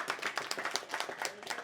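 A small rooftop poetry gathering claps briefly, a quick scattered patter of a few hands, fairly faint and close, with some voices mixed in.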